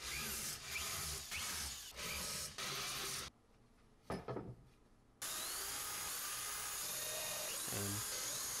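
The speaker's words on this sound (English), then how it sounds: "Here I'm drilling and countersinking each one." A power drill bores and countersinks screw holes in wood while a rain barrel pumping station is being built, with steady whirring bursts broken by a short, quieter pause.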